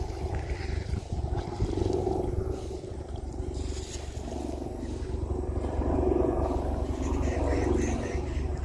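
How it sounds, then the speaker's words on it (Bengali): A helicopter passes overhead above open water during cast-net fishing, heard as a loud, steady low engine and rotor drone that swells slightly and holds throughout. "আর উপর দিয়ে ওই যে হেলিকপ্টার আসছে"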